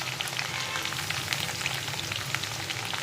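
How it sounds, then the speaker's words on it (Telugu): Okra frying in a pan with tomatoes just added makes a steady, fairly quiet sizzle and crackle throughout, with no voices. "ఇప్పుడు టమాటాలు వేసుకోవాలి."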